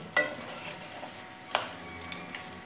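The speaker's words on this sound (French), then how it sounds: "Hop, on remue. On va le laisser réduire très légèrement." Wooden spoon stirring Cantonese braised pork in a pan, with a few soft scraping strokes over a quiet simmering hiss, close and light, no talking.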